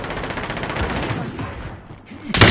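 Rapid automatic gunfire crackles in Call of Duty, fast bursts of shots blending into a dense fusillade, ending in a sharp, louder blast close by.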